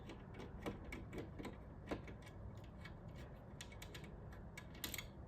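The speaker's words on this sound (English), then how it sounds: "I'm just going to go ahead and hold the monitor myself and then take off the last 2 screws" Last screws being backed out of the monitor on a 32-inch lift-up arcade machine, with faint, scattered mechanical clicks and ticks of the screwdriver turning over quiet room noise.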